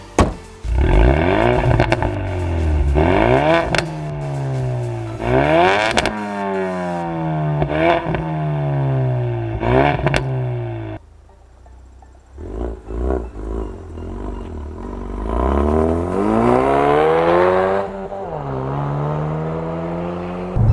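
A Ford Mustang High Performance 2.3L EcoBoost engine revs hard through several rising gear pulls on the road, briefly drops away, then climbs loudly again in another strong acceleration.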